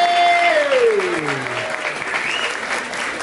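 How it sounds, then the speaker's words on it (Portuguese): A crowd at a street rap battle cheers and applauds loudly and continuously, with whistles and a shout rising and falling over the clapping. "Barulho pra esse Roger"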